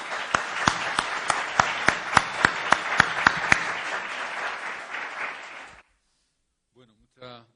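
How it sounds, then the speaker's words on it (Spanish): A crowd bursts into applause with sharp, regularly spaced claps cutting through at first, then the clapping thins out and fades away before a brief voice is heard at the close. "Le damos un aplauso."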